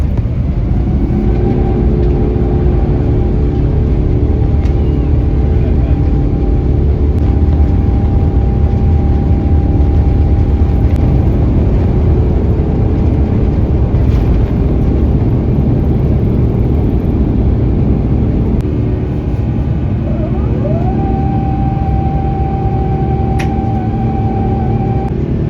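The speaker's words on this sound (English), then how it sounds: "we finally reached our runway and it was time for takeoff." Qatar Airways Airbus A350 taking off, heard from inside the cabin: a loud, steady engine roar with sustained tonal whine throughout, rising in pitch late in the takeoff run.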